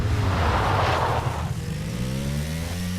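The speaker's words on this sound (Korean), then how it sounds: "버기 타고 이동할래?" A buggy in PUBG drives off with a steady, fairly loud motor drone whose pitch climbs as it accelerates, heard alone without talk over it.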